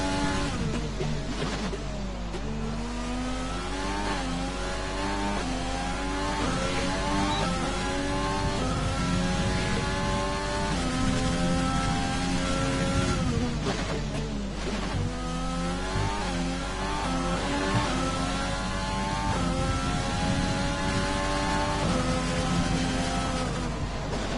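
McLaren race car in a sim racing game, its engine note climbing and dropping through gear changes in repeated revving sweeps, loud and continuous throughout with no voices.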